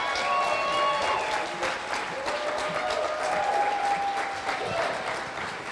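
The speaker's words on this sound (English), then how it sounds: "everyone please give a round of applause for Nefertiti Nguvu," An audience applauds a film director at a Philadelphia premiere Q&A for an indie film, with steady sustained clapping from a crowd in a hall, a few voices and cheers rising through it.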